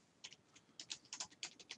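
Text typed on a computer keyboard in mind-mapping software: a quick, close run of light, crisp key clicks at an uneven rhythm, fairly quiet and with no voice over it.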